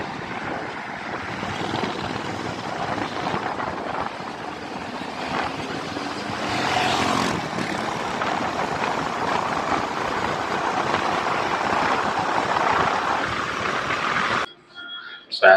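A BSA Goldstar 650 twin-cylinder motorcycle with a 270-degree firing order rumbles steadily through its exhaust while being ridden, a continuous engine drone mixed with wind noise, close and fairly loud, cutting off abruptly at the end.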